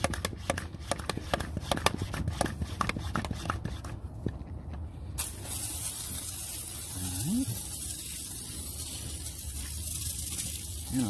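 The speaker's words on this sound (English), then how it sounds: "this foam sprayer" Foam sprayer pumping out wheel cleaner foam in a no-contact wash, heard as a steady, close hiss after a few seconds of crackly handling noise at the start.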